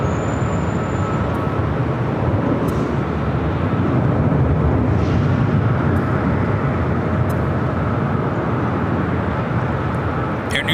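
An ITA Airways heavy jet arriving at LAX produces a loud, continuous broadband roar that stays steady throughout, as if passing close overhead.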